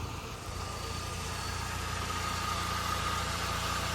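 A car engine runs at a steady, low, even idle after a starter replacement, a continuous quiet rumble with no other sounds.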